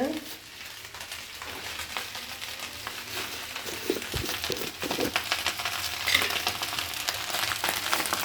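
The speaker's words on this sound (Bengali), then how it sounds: "রাইস ভাজা হচ্ছে" Rice frying in a pan gives a steady, close sizzle with bursts of crackle and the scrape of stirring throughout.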